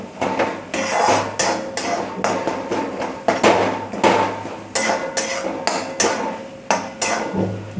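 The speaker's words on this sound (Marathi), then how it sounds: "तेलकट आणि वांग एकजीव झालेला आहे मॅश करून घ्यायचं चांगलं" Roasted eggplant and dried fish (sukat) being mashed in an oily pan, a series of loud close metallic knocks and scrapes of the utensil against the pan in uneven bursts, with a voice talking faintly at times.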